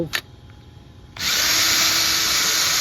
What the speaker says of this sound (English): I'm going to take my left-hand drill bit and I'm going to drill this out.